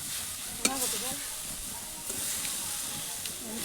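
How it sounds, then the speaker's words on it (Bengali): Grated coconut frying in a pan for sweet pitha filling gives a steady, close sizzle and hiss throughout, with faint scraping stirs and a few soft clinks over the top, and a voice talking quietly beneath it. "এটি কিছুক্ষণ ভাজবো যতক্ষণ না পর্যন্ত নারকেলটি শুকনো হয়ে যাচ্ছে"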